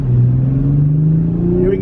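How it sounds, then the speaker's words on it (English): A Toyota Supra sports car pulls away from a green light, its engine tone rising steadily as it gains speed, loud and close from inside the cabin. "we're getting off the green light, picking up speed"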